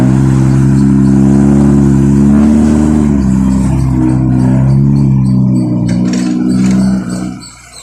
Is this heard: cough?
no